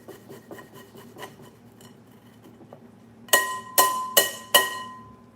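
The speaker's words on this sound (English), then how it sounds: "All right, so we'll grab our grater again." A kitchen grater, previously used for garlic, scraped in four quick, sharp rasping strokes close by, following a stretch of faint, quiet clinking.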